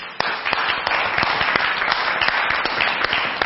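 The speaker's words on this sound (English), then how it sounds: "Everybody, please help me with a big round of applause." An audience bursts into a big round of applause welcoming an instructor to the stage at a Creative Live event, steady dense clapping sustained throughout with sharper individual claps standing out.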